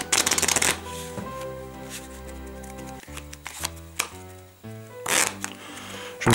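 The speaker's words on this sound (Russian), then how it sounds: "Рифл, шафл." Riffle shuffling of a new deck of Arcane Black playing cards: crisp bursts of rapid card flutter at the start and again near the end, close and loud, over a steady musical backdrop.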